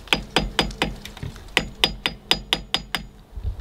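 An aluminum dust cap is pried off an Airstream travel trailer's wheel hub: about a dozen sharp, close metallic taps in an uneven rhythm, with brief pauses between groups and no talking.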